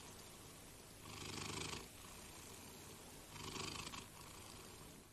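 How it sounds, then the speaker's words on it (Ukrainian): A cat purrs close up, a soft steady rumble that swells in two rhythmic surges with each breath, quiet and alone. "Ви коли-небудь слухали, як мурчить котик?"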